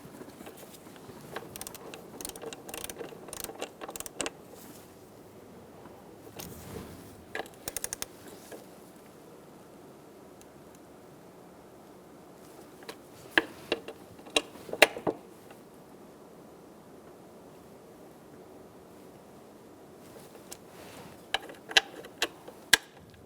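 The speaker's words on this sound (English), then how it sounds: "And now we're going to torque these bolts to 105 inch-pounds." Ratchet torque wrench tightening bolts around the spark plug area of a 2005-2010 Chrysler 300 with a 5.7 L engine: soft, rapid back-and-forth clicking in short bursts, fairly quiet and close, with no talking.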